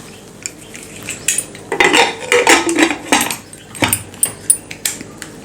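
Metal cookware clatters and clanks in several bursts, a lid knocking and settling onto a pressure cooker, close and fairly loud with no talking.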